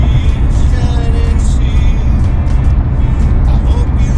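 A car driving along the road, heard from inside: a loud, steady low rumble of engine and tyres that holds unchanged throughout, with a voice faintly over it.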